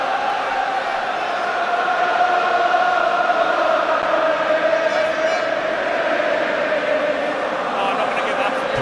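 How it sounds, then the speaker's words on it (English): A large rugby stadium crowd roars during a Munster vs Toulouse match in 2008. The sound is a steady, dense wall of noise that holds at one level throughout, with a voice talking faintly in the background. "Here comes the crowd."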